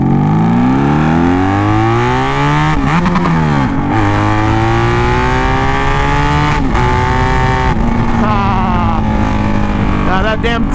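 A vehicle engine revs hard through repeated clutch shifts, the pitch climbing and dropping in several sweeps, loud and close, with voices mixed in.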